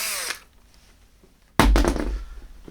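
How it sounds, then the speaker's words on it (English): A power drill spins a bit through mounting holes to clear them for a Go Acoustic Audio ES2 speaker replacement, a short loud whirring burst near the end after a quiet stretch. "I'm just going to take that drill bit one more time."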